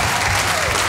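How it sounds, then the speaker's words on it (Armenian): A studio audience applauds on a TV show as a returning children's Eurovision 2014 winner is welcomed, producing a dense, loud wash of clapping that fills the whole short moment without letup. "Ես խնդրում եմ բարձր ծափարեք"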